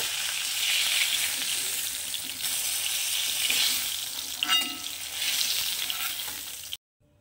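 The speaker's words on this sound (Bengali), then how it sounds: "তো এটা মশলাটা এখন মিশিয়ে নেব" Spice paste being stirred into lightly fried fish for a South Indian style fish curry, a steady hiss of frying oil with scraping stir movements throughout, ending abruptly.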